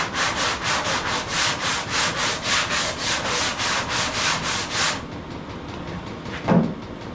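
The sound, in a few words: sanding while building a hood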